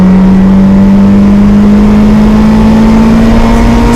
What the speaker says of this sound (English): I'm going to downshift and give it some acceleration for you guys